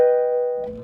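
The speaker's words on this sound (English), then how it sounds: "By itself, my harp sounds like this." A harp note played clean with no effects, a single plucked tone with steady harmonics ringing out and slowly decaying, fairly loud and alone, with a faint rustle near the end.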